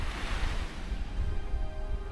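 Waves of the East Sea rolling in at Jukdo beach, soft surging swells washing ashore in gentle pulses with some wind rumble, no voices.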